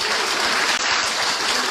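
Steady crowd applause at a Senegalese political gathering announcing Amadou Ba as the Benno Bokk Yakaar presidential candidate, a brief, even wash of clapping with no voices over it.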